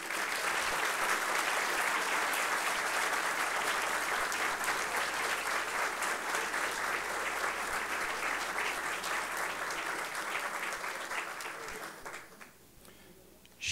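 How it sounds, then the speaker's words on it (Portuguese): Audience applause for two new academy members at an investiture ceremony: dense, steady clapping from a large crowd that holds for about twelve seconds, then thins and fades out. "eu peço a salva de palmas para os dois novos acadêmicos, Ana Maria e Paulo Brito"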